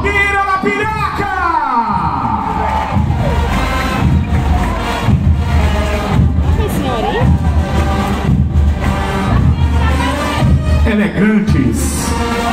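A crowd cheers and shouts continuously at a civic parade in Arapiraca, Brazil, marking Independence Day, with loud sustained voices throughout and a person speaking over the noise.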